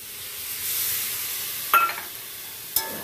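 Cauliflower curry sautéing in a pan, a steady sizzle and hiss with two sharp clinks of a spoon against the pan.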